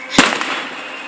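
A single firework bursts outdoors: one sharp boom with a crackling, echoing tail that fades over about a second, moderately loud and at some distance.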